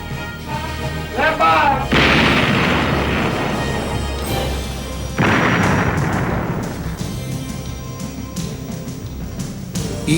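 The main guns of an Iowa-class battleship fire two heavy booming blasts a few seconds apart, each a loud crack followed by a long rumbling roll that fades, with a voice talking over the sound.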